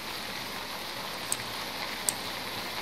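Steady rain in the Gmod map The Village 2 hisses as a constant wash of drops, with a couple of faint clicks poking through and no voices.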